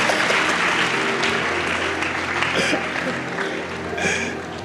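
A crowd applauding steadily, dense clapping that stays loud throughout with a few voices mixed in.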